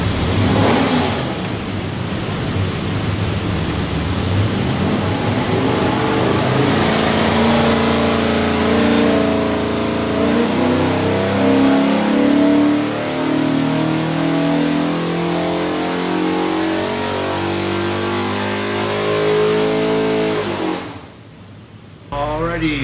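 A Ford 347 cubic-inch small block V8 with a custom hydraulic roller cam and Moroso front sump pan revs up steadily on a dyno, its loud roar climbing in pitch for about twenty seconds before cutting off abruptly.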